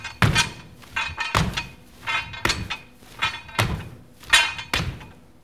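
Landing thuds from snatch grip squat jumps, five heavy flat-footed impacts on a hard floor at a steady rhythm about one per second, each thump followed by brief scuffing, close and loud with no talking.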